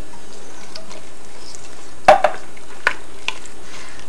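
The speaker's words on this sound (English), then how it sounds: "We're going to mix that all up together." A spoon stirs red beans and sausage in a pot, giving a few soft scraping clinks and a brief clatter, close and quiet, with no talking.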